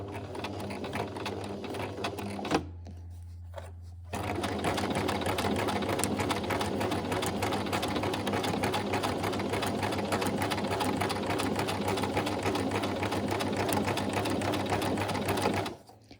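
A sewing machine stitches a seam in fabric, running in a close, steady mechanical whir. It pauses briefly early on, then hums on continuously until it stops at the end.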